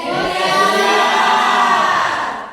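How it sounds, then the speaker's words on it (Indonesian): Sustained crowd applause and cheering from a class at the close of a school lesson, a dense steady wash of claps and voices running loud throughout. "Oke, berikan aplaus dulu."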